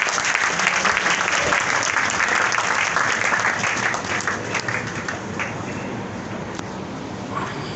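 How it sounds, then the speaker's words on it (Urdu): Audience applause welcomes the chief guest at a skills-education session, a dense, sustained roar of many clapping hands that holds steady before easing slightly toward the end. "ہم آپ کی تالیوں کی گونج میں آج کے چیف گیسٹ کو خوش آمدید کہتے ہیں۔"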